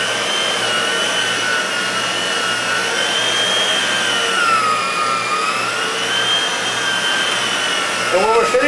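Inside a pizza shop, a floor polishing machine works across the floor, a loud, constant whirring drone with a slowly shifting pitch that holds steady throughout.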